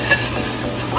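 Garlic sautéing in a pan for beef caldereta, a close, loud, steady sizzle with light stirring scrapes throughout.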